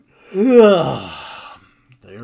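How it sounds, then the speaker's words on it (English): A single drawn-out yawn from a voiced character in the visual novel Katawa Shoujo, rising and then trailing off up close, followed by a brief voiced sound after a short pause. "the first yawn"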